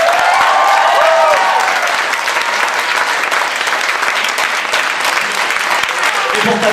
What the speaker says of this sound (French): Donc je vous demande des applaudissements pour Cécile